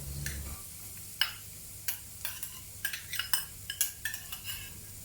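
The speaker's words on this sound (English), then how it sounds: "Now continue to saute over low to medium heat for about 3 to 4 minutes until the onions start to turn soft" Onions and cumin seeds saute quietly in a pan while a spoon stirs and scrapes against the metal, sharp irregular clinks over a faint low sizzle, close by and with no voices.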